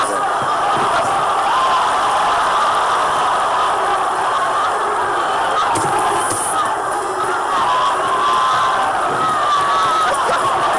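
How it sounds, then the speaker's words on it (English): A boxing arena crowd at a Juan Manuel Marquez vs Juan Diaz fight roars and cheers continuously at loud volume, a dense wall of voices with brief swells during the exchanges. "Even the crowd is excited"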